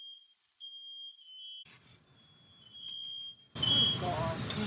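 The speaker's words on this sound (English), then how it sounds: "Smoke detector starts to go off." A smoke detector sounds a steady high-pitched electronic tone in a home kitchen while enchiladas are cooked on a grill, heard in stretches, with kitchen noise joining partway and a louder burst of sizzling clatter near the end.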